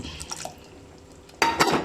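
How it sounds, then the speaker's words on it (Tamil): Tamarind extract splashes into a pot of boiling sambar in a sudden pour after a few faint clinks, gurgling briefly near the microphone. "இப்போ புளிக்கரைசலை ஊற்றுவோம்."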